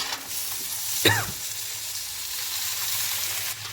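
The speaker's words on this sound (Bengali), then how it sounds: "এবার ভালো করে মিক্সড করে দেবো সবজির সঙ্গে মশলা।" Mixed vegetables and spice paste for shukto sizzle steadily in a pan while being stirred, with one brief scrape of the utensil against the pan standing out near the start.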